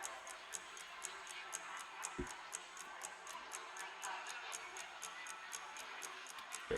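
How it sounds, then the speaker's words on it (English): A wall clock ticks in a quiet room, a crisp, regular beat of about two ticks per second, faint but clear, with one soft low thump midway. "I hear a clock on the wall."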